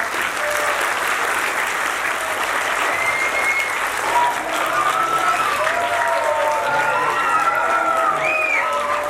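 Sustained applause from a large audience at a talent award show fills the whole stretch, steady and dense, with faint voices and whistles mixed in.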